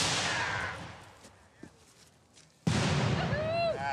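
Civil War reenactment artillery cannon firing, a loud sudden boom that decays, then a second close blast, with voices in between.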